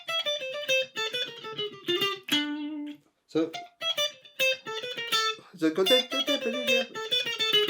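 An electric guitar plays a bright, rhythmic lick, with quick picked notes, a bend and a brief pause, close and clear, and a short spoken interjection.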